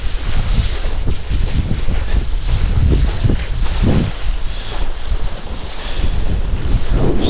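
Kitesurfing through shallow water, with loud, steady wind buffeting the microphone and water rushing and splashing beneath the board, close and continuous, with no voices.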